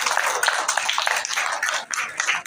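An audience at a photography and photojournalist workshop claps together, a close, busy patter of hands that swells and dips briefly before picking back up, with no voices over it.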